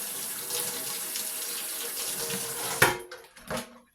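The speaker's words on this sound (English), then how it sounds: "Let me wash my hands off." Water runs steadily from a kitchen tap while hands are washed under it, a close, even splashing rush that stops near the end with a couple of brief splashes and drips.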